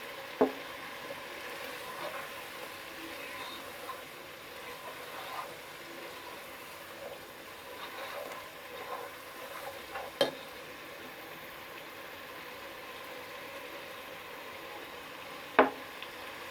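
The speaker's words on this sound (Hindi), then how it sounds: "थोड़ा थोड़ा दही डालकर मैं मटन को अच्छी तरह भून लूँगी" Mutton browning with spoonfuls of yogurt in a hot pan over high heat, a steady low sizzle and hiss throughout with soft stirring scrapes and a couple of sharp spoon clinks.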